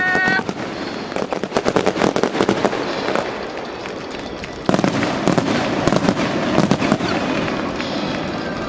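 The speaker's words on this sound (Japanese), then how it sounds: "福島の夜空に花火が、シーズン最終戦を素敵に演出してくれました。" Fireworks burst over a baseball stadium's night sky in Fukushima after the fifth inning of the season's final game: rapid, loud crackling volleys and pops in dense clusters, with a brief lull midway before another fierce barrage.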